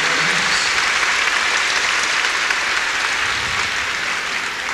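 Arena crowd at a 1990 USA versus USSR men's gymnastics meet applauds a strong routine, a continuous loud roar of clapping from a large audience that holds steady throughout.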